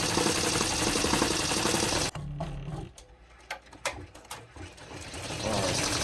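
An industrial multi-head embroidery machine stitches a trucker hat at about 780 stitches per minute. Its dense, rapid mechanical chatter runs loud and continuous, cuts out partway, then gives way to scattered clicks before the steady running returns.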